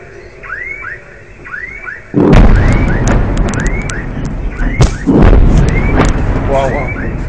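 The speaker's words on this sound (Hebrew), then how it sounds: "כמה פיצוצים" Grad rocket explosions over Ashdod, Israel: a sudden heavy blast followed by more deep booms and cracks, loud and broad, under a repeating rising wail and excited shouting voices.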